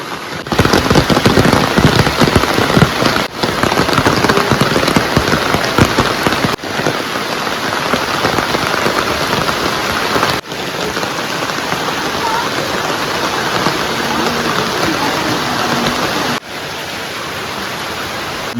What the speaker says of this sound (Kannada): ಇನ್ನೂ ಮಳೆ ಬಿಟ್ಟಿಲ್ಲ